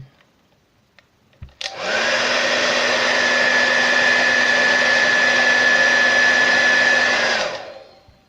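A heat blower shrinks a new wrap onto a vape battery, switching on with a click and running as a loud, steady whirring roar for several seconds before winding down.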